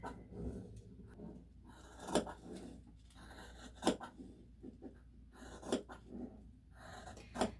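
Sewing scissors make a few faint, quiet snips and slides through fabric, spaced apart as the blade is opened wide for long, smooth cuts.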